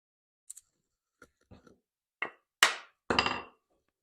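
A hand plane takes thin wood shavings in a few short, close strokes, each a quick crisp swish, with sharper taps and knocks between them and no talking.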